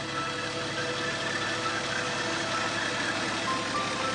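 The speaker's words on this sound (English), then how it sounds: "this is, of course, an engine" An old truck engine with a 6-volt electrical system and positive-ground chassis runs steadily nearby, a continuous broadband idle hum with no pauses.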